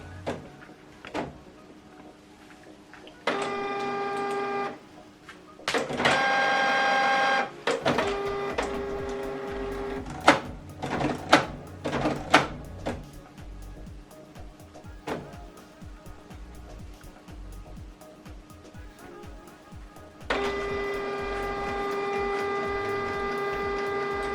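An inkjet printer readies itself to print, whirring in several bursts of steady motor drone between clicks, clunks and mechanical rattles, close and moderately loud over roughly twenty-four seconds with no talk.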